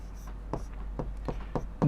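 Hand writing of a maths equation, likely pen or chalk strokes, heard as a run of short scratchy strokes at a steady pace, soft and close, with a low steady background hum.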